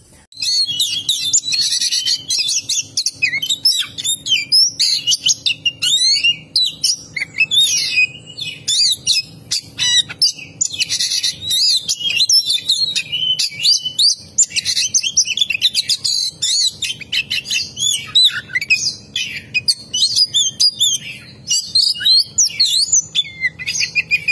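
Bright, chattering oriental magpie-robin song fills the whole stretch, a busy stream of whistles and chirps with barely a pause, close and fairly loud.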